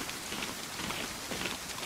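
Steady rain in the DayZ game world, a dense, even hiss of drops falling on surfaces, continuous and fairly close with no pauses or other sounds over it.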